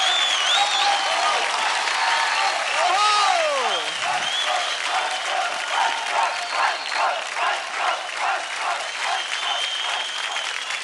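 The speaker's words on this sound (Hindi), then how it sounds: "ज्यादा ताली हो जाए" Audience applause at a televised dance show, a steady wash of clapping filling the whole stretch, swelling into rhythmic bursts toward the end, with a brief falling electronic effect partway through.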